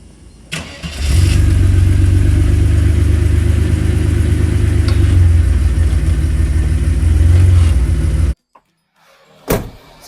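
A Mercedes-Benz W124 engine cranks and fires up, then runs at a loud, steady idle close by for several seconds before cutting off abruptly, followed by a brief knock.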